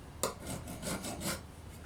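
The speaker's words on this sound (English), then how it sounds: "If this jig happens to get dull, you can just smooth the surface with a diamond stone" A diamond stone rubs across the surface of a dowel-making jig in a few quick rasping strokes, close and fairly quiet.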